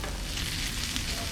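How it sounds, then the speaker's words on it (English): Food sizzles steadily on a hot grill, a continuous close crackling hiss with no talking. "Sizzling, cracking and snapping and popping."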